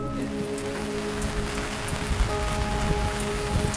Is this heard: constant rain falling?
yes